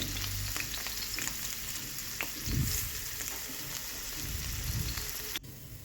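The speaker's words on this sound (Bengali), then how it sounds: "লবণ দিয়ে সজনে ডাঁটা আর পটলটাকে ভেজে নেব" Pointed gourd sizzles and crackles in hot oil in a wok, a loud, steady fry with occasional stirring scrapes and bursts of hissing throughout.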